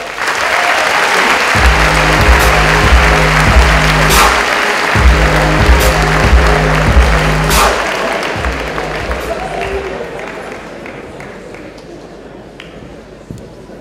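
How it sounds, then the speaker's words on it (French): An audience at a graduation ceremony claps steadily for a school director taking the stage, the dense applause loud at first and then slowly fading. Music with a rhythmic low beat plays beneath it. "Donc je vous demande d'applaudir sur l'estrade le directeur général des 3 écoles du pôle Léonard de Vinci, Pascal Brouet."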